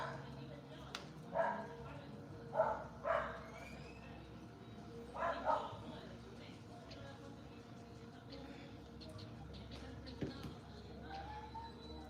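Dogs barking in short bursts at moderate distance, several sharp yaps spaced a second or two apart over a low background hum, with faint voices in the room.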